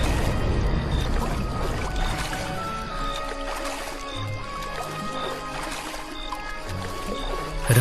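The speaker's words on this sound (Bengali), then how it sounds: "নদীর জলে ঝপঝপ শব্দ তুলে চাচা নৌকা নিয়ে এগিয়ে যেতে লাগলেন" An old wooden river boat moves through water at night, with paddle splashes and gurgling sloshes rising over a busy, steady background mix.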